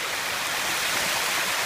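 Creek water rushing under a bridge in the Philippines, heard as a steady, close broadband roar with no voices over it.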